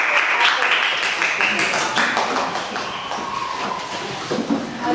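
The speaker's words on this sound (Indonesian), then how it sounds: "Berikan aplaus untuk kelompok" A classroom audience applauds a presentation group at a teacher-training session, with a dense, steady wash of clapping filling the whole stretch and easing slightly toward the end.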